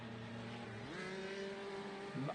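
A Datsun-like car in a sim racing video game, its engine holding a steady drone that steps up in pitch and then rises sharply near the end, fairly faint with no voices.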